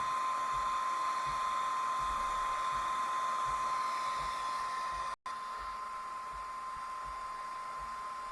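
A laser engraver etching blue anodized aluminum, a steady airy whine with a thin constant tone running throughout, broken by one brief dropout near the end.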